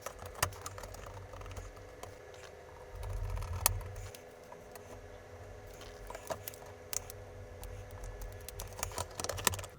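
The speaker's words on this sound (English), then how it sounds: "See if the keyboard works now, I suppose." Irregular clicking of keys being pressed on a worn membrane keyboard of a ZX Spectrum Issue 3B under repair, close by, with a low steady hum underneath.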